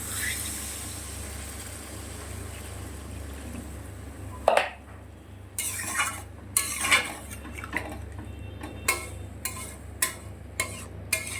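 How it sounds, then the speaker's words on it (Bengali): Water is poured into a pot of prawn curry, first a steady stream hissing into the pot, then a series of sharp metallic clinks of a utensil against the pot, close and clear. "এবার আমি পরিমাণ মতন জল দিয়ে দেবো।"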